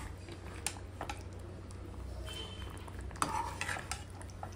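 Cream being stirred into chicken biryani in a pan, a soft, steady scraping and swishing with occasional light clinks of a spoon against the pan over a low background hum, no talking.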